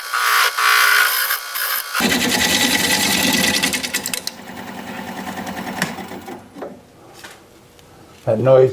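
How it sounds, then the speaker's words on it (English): Scraping, rubbing friction from a lathe's tool rest dragging against a spinning wooden bowl during woodturning, a steady loud rasp lasting several seconds before fading into quieter workshop noise, with a brief louder burst at the end. "That noise you hear is because I have the tool rest rubbing on this"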